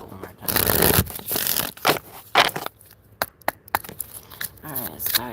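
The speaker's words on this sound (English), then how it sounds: "Let me shuffle one more time." Tarot cards being shuffled by hand, a run of papery riffles, rustles and soft flicks close by, irregular in rhythm with brief pauses between bursts.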